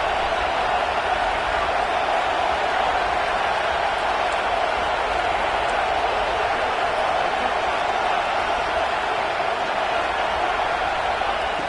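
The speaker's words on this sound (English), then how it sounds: "this home crowd is fired up and ready to make a difference today" A home crowd at an American college football game roars steadily, a broad continuous wash of cheering from a packed stadium that holds at a constant level for about twelve seconds.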